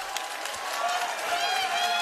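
A basketball crowd at a grand final claps and cheers in a sustained wash of applause, loud and continuous, with a faint voice underneath.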